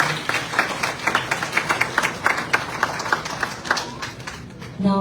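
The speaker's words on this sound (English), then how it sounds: "Everyone, please give them a big round of applause." A crowd at a community gathering claps in applause, a steady patter of many hands heard close and moderately loud, fading toward the end, with a voice speaking over it.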